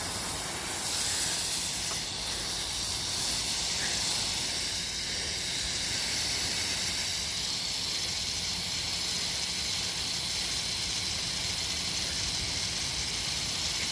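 A steady, continuous hiss of soft wash cleaner sprayed onto a mossy roof, running unbroken and fairly close throughout with no talking.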